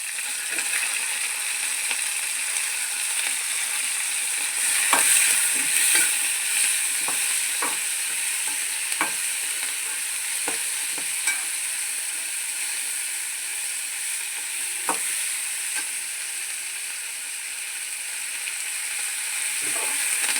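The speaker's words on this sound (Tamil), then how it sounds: "நல்லா கழுவி வச்சுருந்த கருவேப்பிலை போட்டு நல்லா வதக்கிட்டு அதோட டக்குன்னு தக்காளி போட்டுடலாம்" Curry leaves and tomato sautéing for beetroot chutney give a steady close sizzle and hiss, with scattered light spatula scrapes and stirring clicks throughout, and no talking.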